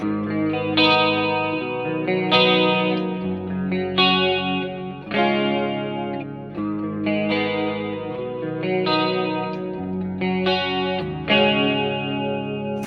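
Electric guitar, a 2013 Les Paul with Bare Knuckle Nailbomb humbuckers rolled back, strums a steady chord progression with a thick, driven tone, fairly loud, with chorus-like shimmer and no voices.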